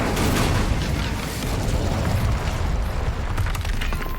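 An Incendio fire spell in Hogwarts Legacy, a loud, sustained roaring fiery blast with a deep rumbling body and crackling bursts, continuing for several seconds without talking.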